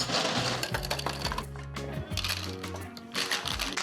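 A tiki cocktail rattles hard in a shaker at a Hollywood Hills bar, with fast rhythmic clattering of ice in a burst of loud shaking strokes that lasts a few seconds.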